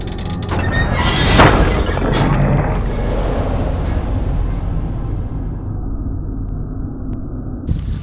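A spring-loaded mouse trap snaps shut and smashes a pretzel, a sharp crack with a spray of breaking bits around the first and a half seconds, then a long steady noisy rumble with a small click near the end.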